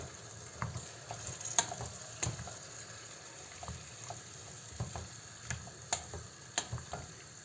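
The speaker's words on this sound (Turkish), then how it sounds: "Bu iyice kendi sosuyla biraz kaynasın" A pot of chickpea stew simmers in its own tomato-paste sauce, giving a faint bubbling sizzle broken by irregular soft pops and ticks, heard alone and close.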